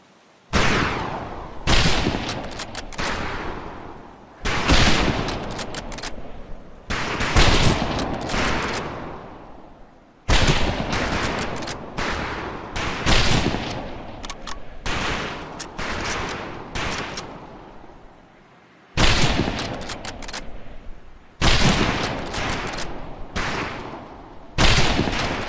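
Rifle fire on a shooting range in the Medal of Honor: Pacific Assault video game comes in loud, sharp volleys of overlapping shots, with brief pauses between bursts.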